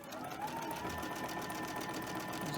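Sewing machine chain stitching pieces of a cotton quilt together, a steady, continuous whirring hum running close and even throughout without pause.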